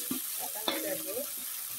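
Sliced tomato, green chili and ginger stirred in a frying pan, a soft steady sizzle with a couple of quiet spatula scrapes, faint and without talk.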